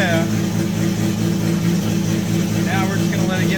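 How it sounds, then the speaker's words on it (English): A Nissan Skyline R34 GT-R engine idles with no exhaust, just an open dump pipe, giving a steady, loud, droning rumble that holds even throughout, with faint whistling tones drifting over it. "now we're going to turn the engine on and let it get up to temp"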